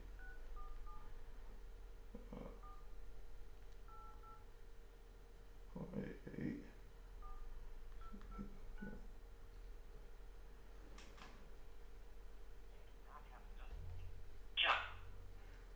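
Telephone keypad touch-tones beep in short separate bursts while someone fiddles with a phone line during a live stream, with faint background noise between the tone groups and a sharper burst near the end.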